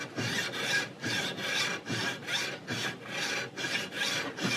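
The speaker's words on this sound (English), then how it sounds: "that just gives me a nice stable way to work that file down the barrel" Metal file pushed in repeated even strokes along a flintlock longrifle barrel, about nine rasping passes in under five seconds with brief gaps between, close and steady with no talking.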